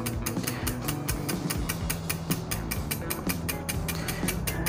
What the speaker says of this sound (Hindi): हम हमारा जो दही है हम इसको थोड़ा सा विस्क के ज़रिए इसको मिक्स करते हैं